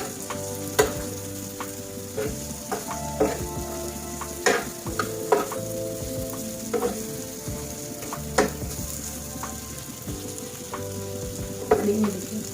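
Bhujia fries in a pan while being stirred. A steady, close sizzle runs the whole time, broken by regular scraping clicks and knocks from the stirring.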